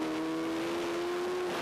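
Racing sidecar outfits lapping at Le Mans during the 2007 FIM Sidecar World Championship, with a loud, sustained high engine whine holding a steady pitch over broad track noise.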